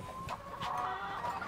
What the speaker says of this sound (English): That rooster did not even mean to me, right?